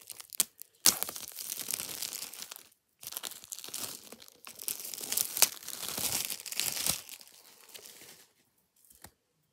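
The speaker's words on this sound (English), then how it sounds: "we are going to peel off the wrapping" Plastic wrap crinkles and tears as it is peeled off a new pink iPad Air 5th gen box, with close irregular crackling bursts and short pauses in between.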